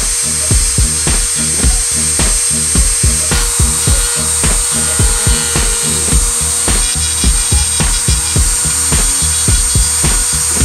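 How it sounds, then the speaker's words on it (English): A power tool working over epoxy filler on a car body panel, giving loud, steady rhythmic strokes of about two or three per second that run the whole time with no talk. "I'll have to grind it."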